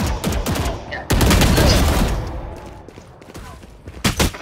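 Gunfire in the video game Valorant, with rapid bursts of shots, a heavy volley in the middle and a few sharp shots at the end, mixed with game sounds.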